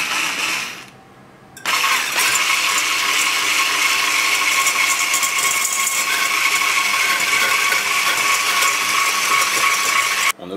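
An electric mixer beats mayonnaise in a home kitchen: a loud, steady, high-pitched whir that starts after a short quiet gap and runs without a break nearly to the end.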